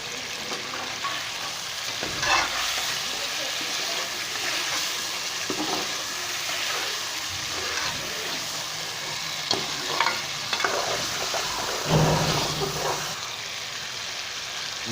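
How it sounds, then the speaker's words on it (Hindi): Chicken and tomatoes fry in a karahi with a steady, dense sizzle, while a utensil scrapes and stirs at intervals close by. No voices are heard. "चिकन हमारा सुनहरा हो चुका है। अभी हम इसमें टमाटर शामिल कर लेते हैं।"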